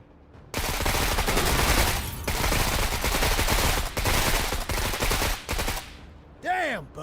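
Video game gunfire rattles in a loud, near continuous machine-gun barrage of rapid shots, broken by brief gaps, before a voice speaks at the end.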